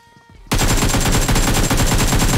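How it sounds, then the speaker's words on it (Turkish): Gunfire from the mobile battle royale game PUBG Mobile on the Miramar map, a loud, sustained rapid stream of automatic shots bursting in suddenly after a quiet moment and continuing to the end. "Şu an beni vurdun."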